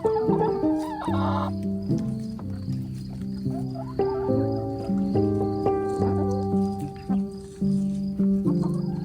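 Backyard chickens cluck and croon close by, overlapping calls in an uneven chatter that continues throughout with no pauses.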